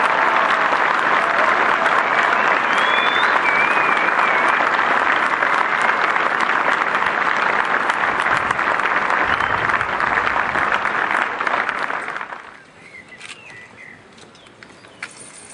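Sustained applause from a crowd at a military swearing-in ceremony for recruits of the Austrian Bundesheer in Bad Deutsch-Altenburg, loud and dense for about twelve seconds before fading abruptly, with a few bird calls audible after it stops.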